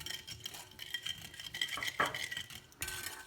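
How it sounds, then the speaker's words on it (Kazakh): A spoon stirs water, sugar and yeast in a bowl while making Turkish simit bread dough; repeated scraping and clinking of utensil against the bowl, close and fairly loud, with a sharper knock partway through and no talk. "Араластыра отырып, үстіне 10 грамм дрожж салатын боламыз. Тағы да жақсылап араластырып алатын боламыз."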